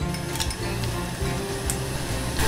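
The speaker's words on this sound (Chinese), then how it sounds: "现在要先把这个香菇爆香" Shiitake mushrooms stir-fried in a little oil for a stir-fried chayote dish, a steady loud sizzle with faint clinks from the pan, heard alone.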